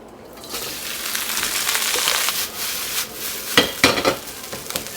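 Rice stirred and broken up in an oiled hot pan while frying rice with lettuce: a steady sizzle with scraping spatula strokes, louder clattering pushes near the end, no talking.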